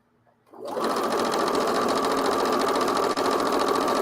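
After a brief moment of quiet, a sewing machine starts up nearby and stitches loudly and continuously at a steady fast pace until the end.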